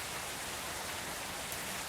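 Rain falls in a bus off-road driving video game, a steady, dense hiss of downpour heard alone and close for the whole stretch.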